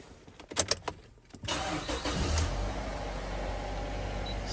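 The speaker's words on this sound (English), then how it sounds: "let's get this car started" A 2007 Mazda MPV with a 2.3 petrol engine and automatic gearbox cranks briefly and catches, settling into a steady, close idle after a few clicks and starter whirs.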